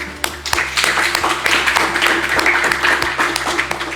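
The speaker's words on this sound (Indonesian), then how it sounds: "Sekali lagi kita beri tepuk tangan untuk kita semua." Audience clapping at the end of a class session, dense and lively, with sharp individual claps over a steady patter for several seconds and some voices in the background.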